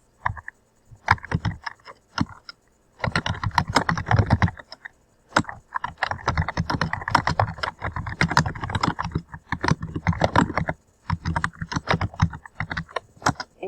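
Rapid clicking of keys on a computer keyboard, steady bursts of typing with short pauses between, close and fairly loud with no talking.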